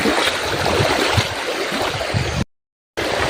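A shallow stream being crossed on foot, a loud, continuous rushing and gurgling of flowing water close by, broken by a brief silent gap near the end.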